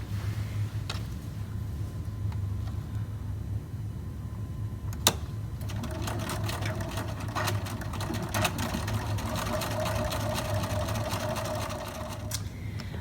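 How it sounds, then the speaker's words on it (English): A sewing machine stitches over a previous seam to join backpack pocket material, a steady mechanical whir that starts with a click and runs close and continuous with a rattling motor. "we're just going to stitch over our previous stitch to connect these two pieces of material"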